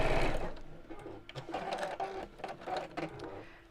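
A domestic sewing machine runs in short bursts of rapid stitching, starting and stopping several times as fabric is fed through, close and fairly quiet indoors.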